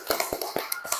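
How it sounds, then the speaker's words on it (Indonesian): An audience claps hands in an indoor classroom or lecture setting, giving a quick burst of sharp, uneven claps heard close and fairly loud over about a second. "Tepuk tangan."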